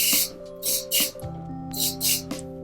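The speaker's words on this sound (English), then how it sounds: "We're just gonna spray." Hairspray hisses from a can onto long hair in short bursts, about five sprays with pauses between, close and fairly soft.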